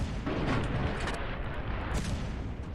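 A giant war machine in the Ravenfield video game fires rapidly, producing a dense, continuous roar of overlapping booms and blasts that stays loud throughout with no pauses.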